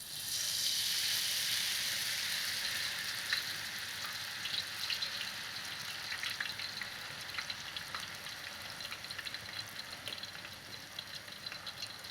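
Ghevar batter fries in a mould, giving a dense, bright, continuous sizzle that is loudest at first and then settles to a slightly softer, crackling hiss, with no voices.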